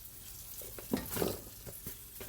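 Vegetables hit a big hot pan and sizzle, with crackling bursts and stirring scrapes rising over a soft, steady frying hiss, fairly quiet and with no voices.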